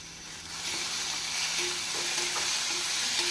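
Tomatoes sizzle and fry steadily in a hot pan over medium heat, with a few soft clinks of stirring.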